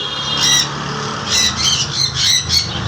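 Blue pineapple and yellow-sided conures let out repeated loud, harsh squawks in short bursts, close by and overlapping, with quieter chatter between calls.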